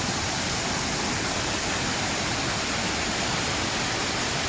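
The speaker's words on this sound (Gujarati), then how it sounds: "જંજીરના ધોધનું વિકરાળ રૂપ।" The Janjir waterfall in Gir Somnath, swollen by monsoon flooding, roars as a thick, unbroken wall of rushing water that stays steady and loud throughout.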